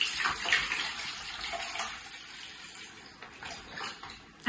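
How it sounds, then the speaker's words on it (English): Bottled water pours into the reservoir of a Bartesian cocktail machine, a steady close splashing trickle lasting several seconds with no talk over it. "We're going to go ahead and add water to that."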